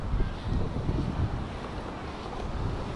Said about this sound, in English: these waves really are bigger than the other ones